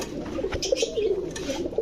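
Rajshahi Giribaz pigeons coo in a series of low, wavering calls, close by, with some rustling and faint background noise.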